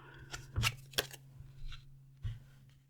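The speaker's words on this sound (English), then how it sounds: "We're going to shuffle the Lenormand deck." A Lenormand card deck shuffled by hand, a few quick riffling bursts and soft card snaps close to the microphone, quiet over a low steady hum, with no talking.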